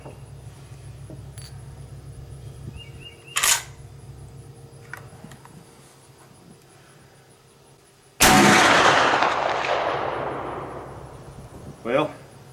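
Two rifle shots from an 1876 Winchester firing heavy bullets toward a 250-yard dirt backstop: a sharp crack early, then a louder blast with a long rolling echo and a faint later report, over steady outdoor background noise.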